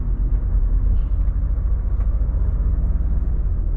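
From inside the cab of a Volvo FH 540 truck on the move comes a heavy, steady low rumble, with a few faint thumps as the wheels roll over a pothole.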